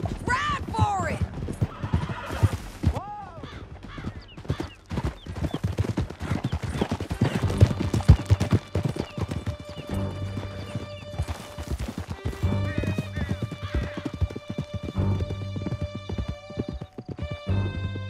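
Horses galloping in Red Dead Redemption 2 through a canyon: steady close clip-clop hoofbeats with whinnies, scattered gunshots and faint talk mixed in.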